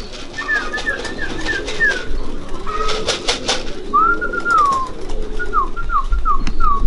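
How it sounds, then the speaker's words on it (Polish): Several soft, repeated cooing calls from racing pigeons, rising and falling in short phrases, over a steady outdoor background hum. "Jak widzicie, część gołębi to jest gołębie obce są."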